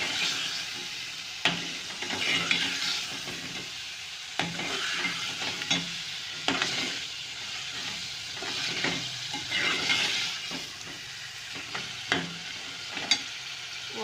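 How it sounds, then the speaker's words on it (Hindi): Potatoes sizzle steadily as they fry in hot masala for an aloo gobhi bhujia, with frequent scraping stir strokes and soft clinks cutting through the constant hiss, close and fairly loud with no talking. "तो इसको मैं इसमें डाल के भूनूँगी मसाले में।"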